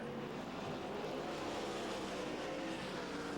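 World of Outlaws sprint cars racing wheel to wheel into turn 4 at Perris Auto Speedway in 2004, a continuous distant engine drone with a hazy crowd-like wash, fairly faint and steady.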